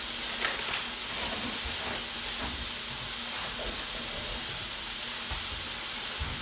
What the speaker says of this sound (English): You just literally open the packet and throw it into the boiling hot water